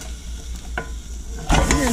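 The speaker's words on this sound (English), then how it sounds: "Fry that up." Italian sausage meat frying in a skillet, loud close sizzling under a utensil stirring and scraping through the meat, with a sharper burst of stirring near the end.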